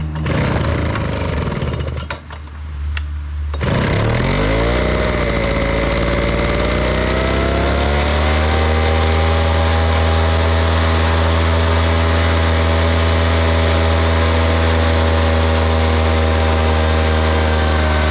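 A late-1990s Honda Harmony lawn mower engine runs loud and close, its sputtering start settling into a steady, droning idle that holds to the end, with no talking.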